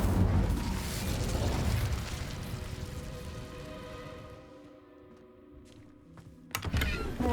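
A fire spell cast in the Hogwarts Legacy video game flares up as a loud rushing, crackling burst that fades over several seconds, ending with a short sharp flare near the end.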